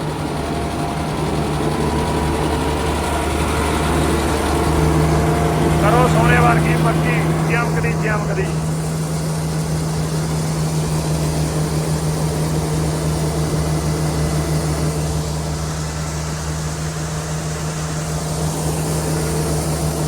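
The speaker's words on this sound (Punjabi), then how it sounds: "ਲੰਬ ਮਾਰਦਾ ਹੀ ਆਉਂਦਾ ਇੰਜਨ ਬਹੁਤ ਮਾਰਦਾ ਧੂਆ" A tractor's diesel engine runs at a steady low drone on a Punjabi farm during maize harvesting, continuous and fairly loud across the whole stretch, with a voice talking briefly over it partway through.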